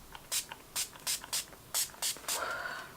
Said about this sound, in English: Final step is this setting spray.